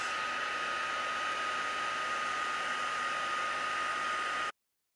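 A heat tool blows a steady, loud airy hiss while melting old embossing powder, a constant unbroken rush that cuts off abruptly near the end.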